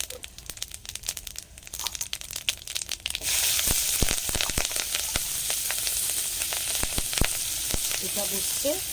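Prawns, eggplant and potato frying in a pan on a stove for a Bengali chorchori curry: a few scattered crackles and stirring clatter at first, then a loud, continuous sizzle sets in abruptly and carries through with occasional sharp pops.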